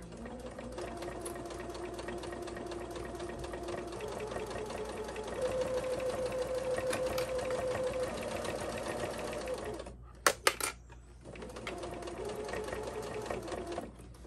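A sewing machine runs steadily while stitching down the zipper area of a zippered fabric pouch, a continuous close mechanical whir that stops briefly near the end and then resumes.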